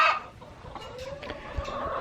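A backyard hen clucks softly in short, scattered calls, one drawn-out tone in the middle, fairly close but quiet against faint outdoor background noise.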